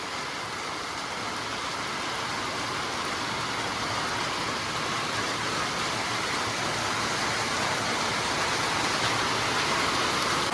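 Heavy rain pours steadily on a Munnar hill estate, a dense, unbroken hiss that stays loud and constant throughout with no voices.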